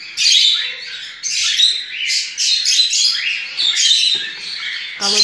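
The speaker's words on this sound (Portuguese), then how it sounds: "Agora eu vou alimentar as calopsitas da gaiola" Cockatiel chicks chirp and squawk in loud, high, repeated bursts up close while being syringe-fed hand-rearing formula from a cage.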